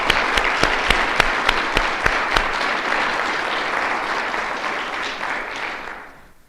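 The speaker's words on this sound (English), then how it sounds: "a round of applause" Audience applause at a foreign-aid HIV/AIDS talk, honoring a student chapter. A few sharp, close claps stand out over the dense crowd clapping early on, and the sound gradually tapers away.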